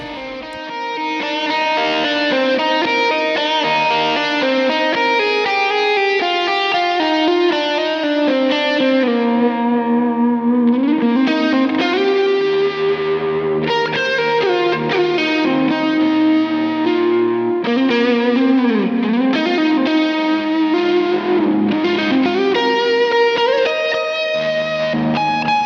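A ballad is played on a Gibson SG electric guitar through distortion and chorus effects, with long, singing lead lines, bends and held notes at a steady loud level, with no voices.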